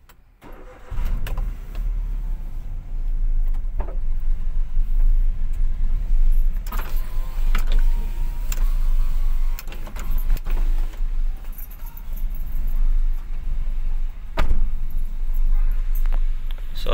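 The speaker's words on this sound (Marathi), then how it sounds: "सो चला आता गाडी स्टार्ट करू, आपण वॉर्मअप करूया थोडंसं आणि जाऊया।" A parked car's engine cranks and catches, then settles into a steady idle while it warms up, with keys jangling and occasional clunks close by.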